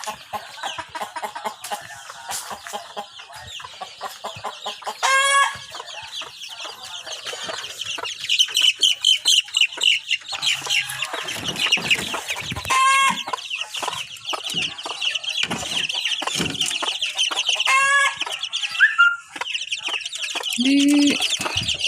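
Chickens cluck close by in repeated bursts of short calls, overlapping at times, with occasional drawn-out squawks.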